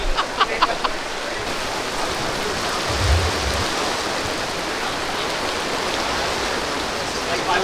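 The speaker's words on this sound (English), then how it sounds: "There's rain." Steady rain hisses throughout at an outdoor paintball tournament, with a few sharp taps near the start and a brief low thump midway, no voices.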